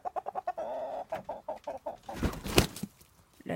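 Several chickens cluck close by in quick, uneven bursts, with a louder squawk midway and rustling in between.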